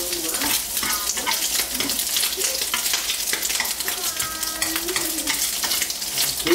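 Bacon frying in a pan while spaghetti is being made at Daecheon beach, a steady loud sizzle with fat crackling and spattering throughout, close up, with no voices.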